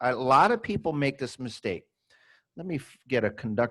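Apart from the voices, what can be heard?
No distinct noise like a dog, phone or traffic.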